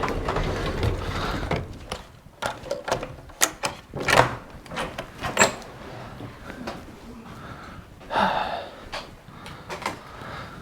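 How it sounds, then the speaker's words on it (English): Hotel lift doors slide open with a run of mechanical clunks and clicks and a soft rolling swish, close by, while a voice talks over the top. "Doors are opening."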